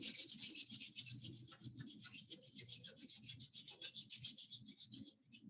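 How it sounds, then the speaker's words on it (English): Hands rub together briskly in a t'ai chi and qigong exercise class, making a steady rhythmic swishing friction that repeats quickly for several seconds, close and moderately soft. "rubbing your hands together"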